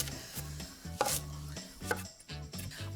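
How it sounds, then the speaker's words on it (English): A knife roughly chops a pile of parsley on a board, making several quick, close thuds in an uneven rhythm. A steady low hum runs underneath, and no one speaks. "I'm gonna give it just a couple of rough chops"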